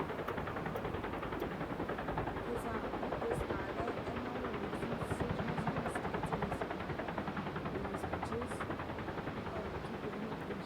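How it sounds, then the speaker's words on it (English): A rescue helicopter's steady rotor thrum and engine roar fills the air overhead, continuous and fairly loud, with a voice talking faintly underneath. "This looks like a rescue helicopter trying to pick somebody up."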